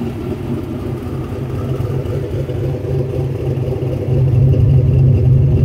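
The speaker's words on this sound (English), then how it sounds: "Have you hit the exhaust again at idle?" A turbocharged Fox-body Ford Mustang engine rumbles steadily at idle, then swells into a louder, deeper revving toward the end, close and continuous with no voices.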